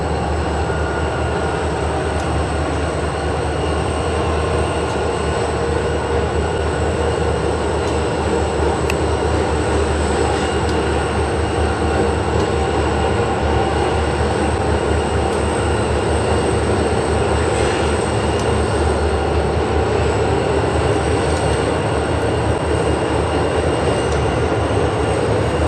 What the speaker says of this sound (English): we saw a southbound Ohio Central train as it crossed the Scioto River on CSX's Columbus subdivision